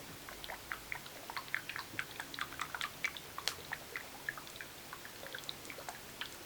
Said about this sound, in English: I'm going to shake the bottle so you guys can hear how watery it sounds.